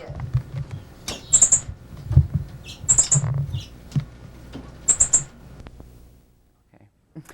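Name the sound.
birds cheeping in the background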